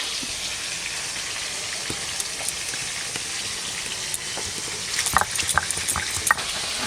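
Hilsa fish fries in hot oil, a constant loud crackling sizzle with occasional sharper pops and spatters growing busier toward the end.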